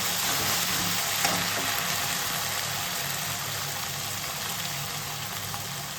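Cashew paste goes into a pan of sizzling masala, and a steady, loud frying hiss carries on without a break, with no talking.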